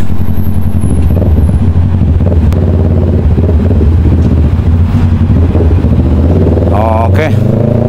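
Motorcycles, buses and other traffic on the South Luzon Expressway, a steady loud engine drone with passing vehicles throughout and a rising rev near the end.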